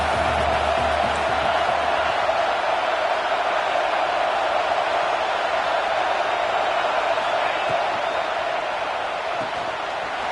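Football stadium crowd cheering for the defense during a Georgia vs Texas game, a constant loud roar of many voices filling the whole stretch with no breaks.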